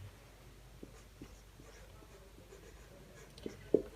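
Faint, sparse taps and scratches of writing on a board during a math lesson, with quiet room tone and a slightly louder stroke near the end.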